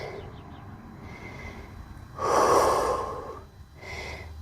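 Deep breathing during a yoga forward fold: a couple of quiet breaths, then one long loud close exhale through the nose and mouth, followed by a softer breath.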